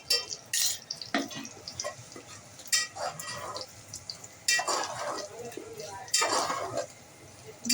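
Ground onion-coconut masala being sautéed in a pan for chicken curry: a spatula scrapes and clinks against the metal in irregular bursts, with quieter gaps between strokes.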